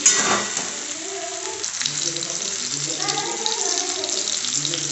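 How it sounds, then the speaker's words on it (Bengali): Onions fry in a pan with cinnamon and cardamom, a close, steady sizzle broken by stirring and scraping, with some faint background hum and no one talking. "পেঁয়াজটাকে ভালো করে ভেজে নিচ্ছি। ভালো করে পেঁয়াজটা ভেজে নিই।"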